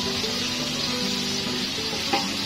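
Onions sizzle and fry in a hot pan, a steady crackling hiss close up with faint stirring scrapes and one brief clink near the end, no voices.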